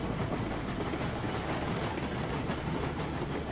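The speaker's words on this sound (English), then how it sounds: "Listen to that chuff. It did update the sounds." A steam locomotive in the video game Railroads Online rolls along with a dense rhythmic chuff and rail rumble, moderately loud and steady throughout.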